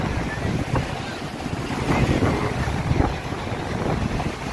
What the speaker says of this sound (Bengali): একটু সমুদ্রের হাওয়া খাচ্ছি